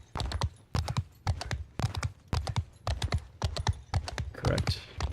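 Horse hooves clip-clop in a competitive online video game, quick clusters of sharp hoof clacks at a brisk trotting rhythm repeating steadily, close and clear with no voices.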